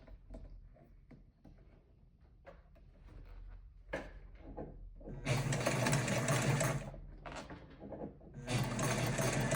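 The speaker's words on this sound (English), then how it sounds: "I'm gonna drop my foot and my needle at my 5/8 inch mark and start" A sewing machine stitching a rolled fabric handle with cording, starting with quiet handling and shuffling and then running in two loud sustained bursts of rapid close-up whirring.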